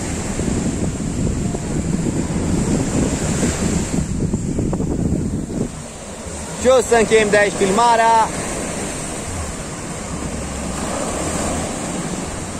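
Sea waves wash continuously onto the shore at Eforie Nord on the Black Sea, a steady broad roll with wind buffeting the microphone, while someone speaks briefly over it.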